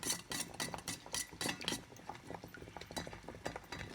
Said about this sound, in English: Now we're just going to keep stirring it up